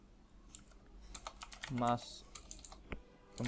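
A Git merge commit message is typed on a computer keyboard, producing a quick run of soft, close key clicks at an uneven pace, with a faint voice in the background.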